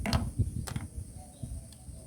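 A small screwdriver working on a part of an acoustic guitar, giving close, faint mechanical clicks and creaking turns in a brief, uneven sequence.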